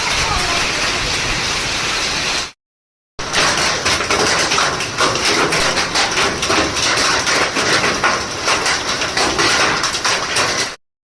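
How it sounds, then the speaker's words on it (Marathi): Loud, dense clatter of large hailstones pelting down close by, a steady rattling downpour that stops briefly, then resumes just as hard. "सगळ्यात मोठा गारा पडायला लागला आता"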